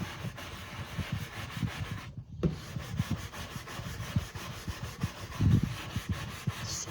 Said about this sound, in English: scrub it off.